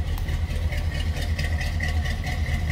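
A 1971 Chevrolet Monte Carlo with a cammed 350 V8 and Flowmaster exhaust idles steadily, a deep, lumpy low rumble with loping pulses heard up close and no talking.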